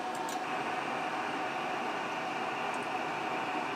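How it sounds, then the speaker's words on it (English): Steady hiss from a white noise source modulating a keyed-up radio transmitter, a constant even rush with faint ticks near the start and later, no voices. "Modulation in this case is the white noise source."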